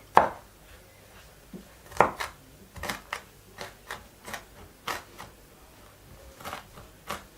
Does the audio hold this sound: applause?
no